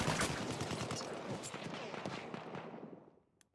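Rapid gunfire from a Halo match in an Xbox One tournament, dense overlapping bursts of shots that start loud and thin out toward the end, with a faint caster voice underneath.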